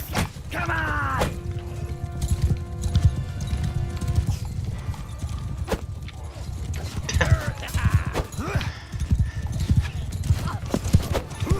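Galloping horse hooves and whinnies in the medieval combat game Mount and Blade II: Bannerlord, rapid clip-clop drumming throughout amid clanking battle noise and sharp crashes, with brief tonal neighs near the start and someone talking over it.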